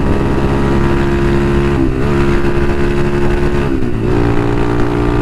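Close, loud, steady engine drone of a Bashan Motomax 250 street legal dirt bike being ridden, the pitch dipping twice briefly as gears shift.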